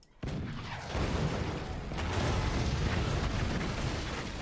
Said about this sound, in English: Them cannons are stupidly powerful.